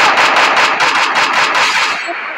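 Rapid automatic gunfire from a mobile shooting game sounds loud and close in a continuous rattling burst of evenly spaced shots. It tapers off slightly at the very end.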